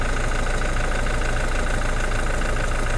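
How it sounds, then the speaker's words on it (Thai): The original 2.4-litre engine of a 2022 Toyota Hilux Revo Z-Edition pickup runs at a steady idle, a loud, close, continuous diesel drone with an even rhythmic knock and no voices. "ก่อนสตาร์ทเครื่อง นะจ๊ะ ให้รู้เสียง ชัด ๆ นะคะ เครื่องเดิมนะคะย้ำว่าเครื่องเดิม"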